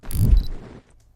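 A short crackling whoosh with a low rumble and bright hiss, fading out quickly after under a second.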